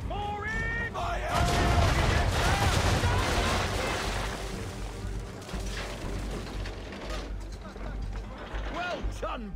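Ship cannons firing a broadside in the Assassin's Creed 3 naval battle: a heavy rumbling volley bursts in after a moment and rolls on for several seconds, with creaking wood and distant booms trailing off.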